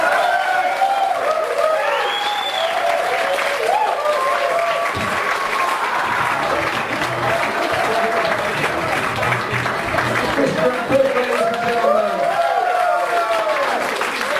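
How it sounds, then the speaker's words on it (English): A theater audience at a comedy show breaks into loud, sustained applause that fills the room for well over ten seconds, dense and continuous, with some cheering and voices mixed in. "going wild with applause may be a good idea"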